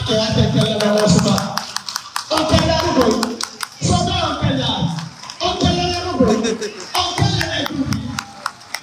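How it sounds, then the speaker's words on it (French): A crowd claps in sustained bursts of applause, with brief lulls between waves, loud and close, with voices mixed in. "On l'applaudit."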